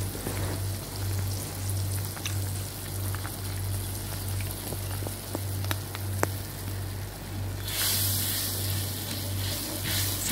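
Chicken feet stirred through sautéed tomato sauce in a pan, giving a steady sizzling, rain-like crackle with scattered faint clicks of the utensil, plus a low constant hum underneath.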